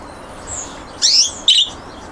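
A white budgie gives a couple of short, bright chirps close by, two quick high tweets over a faint background hiss.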